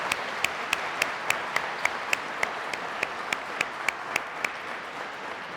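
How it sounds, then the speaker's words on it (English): Steady crowd applause at a police constable badge ceremony, with a small nearby cheering section adding sharp, evenly spaced loud claps over the general clapping. "Connor has a small cheering section over here"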